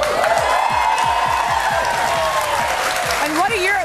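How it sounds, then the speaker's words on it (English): A studio audience at a morning entertainment show applauds and cheers for Richard Gere, a dense, loud wash of clapping with whoops rising over it, while a host's voice carries on above the crowd. "applause for him"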